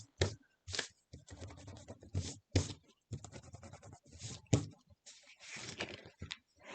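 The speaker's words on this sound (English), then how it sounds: "I'm just going to rub that off so that it doesn't stick anywhere else" Short scratchy rubbing strokes as adhesive is rubbed off the back of scrapbook paper, coming in quick separate bursts with brief pauses between them.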